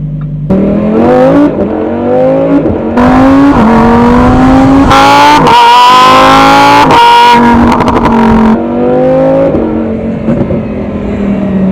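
A 2020 Lamborghini Huracan EVO accelerates hard, its engine note climbing through several gears with sharp breaks at each shift, loud and close with no talk over it.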